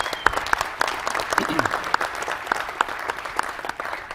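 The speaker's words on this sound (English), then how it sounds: "give him a round of applause" Audience applause at the NVIDIA CES 2014 tech conference, a steady dense clapping from a large crowd that carries on for the whole stretch at a moderate, even level.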